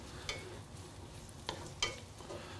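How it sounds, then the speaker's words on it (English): Onions sautéing in a pan, a quiet, soft sizzle with a few sharp stirring scrapes and clicks of a utensil against the pan, no voices. "if we saute the onions, they get kind of sweeter with it too"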